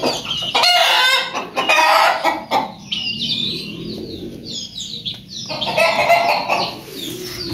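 Chickens cluck in bursts and a rooster crows over them in a backyard coop, all close and clear, with pauses between calls and no one talking.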